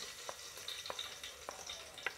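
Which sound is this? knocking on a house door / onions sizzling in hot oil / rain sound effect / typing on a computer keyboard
onions sizzling in hot oil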